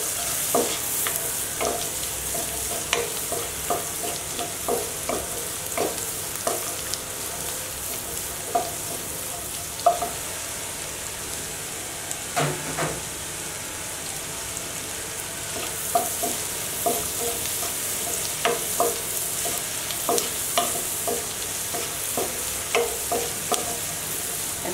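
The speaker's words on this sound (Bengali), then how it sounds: "একটু নেড়ে চেড়ে নিব।" Cauliflower florets stir-fried in a pan for egg vegetable fried rice, a steady sizzle with repeated scraping and clinking of a spatula stirring throughout, no talking.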